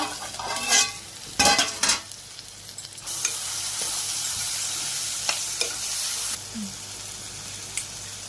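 A cluster beans curry with chili powder stirred in a pan: loud scraping and clanking spatula strokes early on, then a steady close sizzle with occasional taps.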